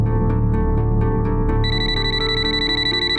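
A telephone rings in a TV crime drama, with a steady electronic ringtone repeating its tones over a dense musical background for about three seconds.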